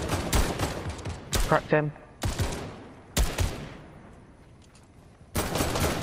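Gunfire in Fortnite Battle Royale: several sharp bursts of shots in quick clusters, fairly close and loud, separated by quieter gaps, with a player speaking briefly between volleys.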